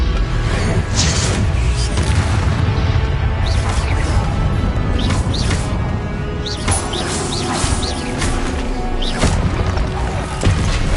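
Incendio fire spell from Hogwarts Legacy bursts with a whooshing blast and crackle of flame, loud and dense amid overlapping combat impacts and spell effects throughout.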